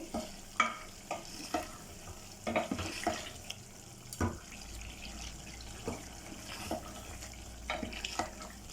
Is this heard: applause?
no